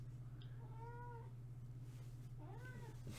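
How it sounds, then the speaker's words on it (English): A house cat meows twice at close range, two short rising-and-falling calls about a second apart, over a steady low electrical hum in a quiet room. "My kitty's coming to say hi."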